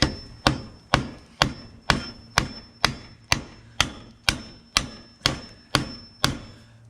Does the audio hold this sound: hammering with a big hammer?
yes